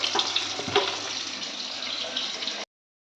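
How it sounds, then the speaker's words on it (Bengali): Fish frying in a pan in a home kitchen, a steady hiss and sizzle of hot oil with faint crackles, close and continuous before stopping abruptly. "আর এইখানে হচ্ছে মাছটা ভাজা করছি।"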